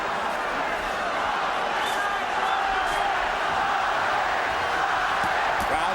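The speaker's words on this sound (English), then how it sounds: "Crowd chanting Chavez, Chavez." A dense boxing arena crowd at the De La Hoya versus Chavez WBC welterweight title fight roars and chants continuously throughout, with a commentator talking over the noise.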